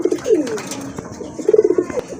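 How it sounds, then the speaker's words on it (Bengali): Domestic pigeons, a mottled-colored pair of native birds, give soft throaty coos in two close bursts, one near the start and another toward the end, with faint background clatter and no talk. "মিলি কালারের ভিতরে এক জোড়া দেশি কবুতর, ডিম বাচ্চার জন্য খুবই ভালো মানের কবুতর।"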